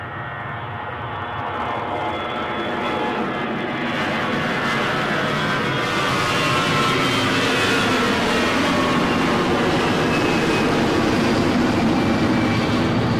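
A jet airliner's engines taking off at Edinburgh Airport: the roar builds steadily from a low rumble into a loud, sustained whine, growing more intense over several seconds.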